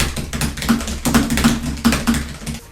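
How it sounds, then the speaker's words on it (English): Typing on a Logitech G915 TKL mechanical keyboard gives a steady, fast run of close, crisp key clicks and clacks with no talking over it. "This is typically what the mechanical keyboards sound like."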